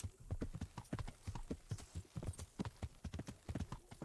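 Horse hooves galloping in the medieval game Kingdom Come: Deliverance, a quick, steady run of close, punchy clip-clop beats with no pauses.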